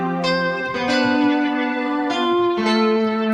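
Synth notes from the Synapse Audio Dune 3 software synthesizer ring out with reverb applied, a sustained bright tone shifting pitch a few times, with each note's tail smearing into the next.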